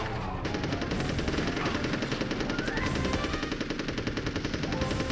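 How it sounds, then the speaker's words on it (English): Rapid gunfire from the N64 game Army Men: Sarge's Heroes, including a sniper's shots, rattles continuously and loudly throughout, a dense steady barrage with no voices over it. "The sniper, you can actually hear it."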